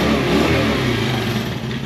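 A three-wheeler motorcycle conversion running on its newly fitted exhaust, the engine holding a loud, close, steady throbbing drone with a slight rise and fall in revs, with no talking.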